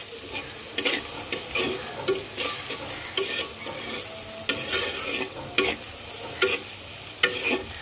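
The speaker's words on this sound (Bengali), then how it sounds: "মশলাটাকে একটু হালকা ভেজে নেব।" Cumin powder and a spice mix fry lightly in a pan while being stirred, giving a steady soft sizzle broken by repeated scraping strokes of the spoon at an even rhythm, with no talk.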